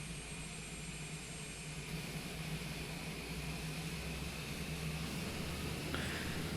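A Cessna in Flight Simulator 2020, sitting on runway 34 left in Japan, gives a steady, loud engine and propeller drone with a constant hum. It holds even and unbroken for the whole stretch, with no talk.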